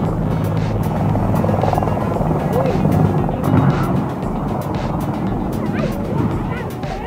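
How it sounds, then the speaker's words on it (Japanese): A military helicopter takes off at a soccer field and snags on power lines, its rotor a loud, steady broadband roar with rhythmic chop throughout, and voices are faintly mixed in. "離陸する軍用ヘリがサッカー場の電線に引っかかってしまいます。"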